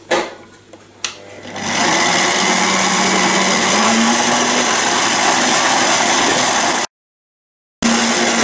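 An electric mixer beats melted butter for cookie dough, starting after a couple of short bumps and then whirring steadily and loud at close range, cutting out briefly before resuming.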